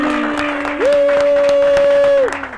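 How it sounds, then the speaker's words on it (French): A studio audience at a French radio show claps steadily for about two and a half seconds, with a sustained whoop or tone riding over the applause before it fades. "on va faire un tournée d'applaudissements"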